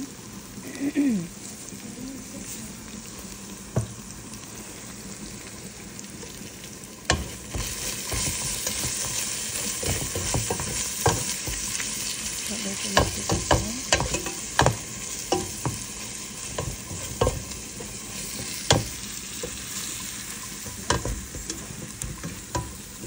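Spices for chicken with bottle gourd being sautéed in a pan: a steady sizzle and crackle with repeated scraping stirs of a spoon, close and continuous, growing busier partway through.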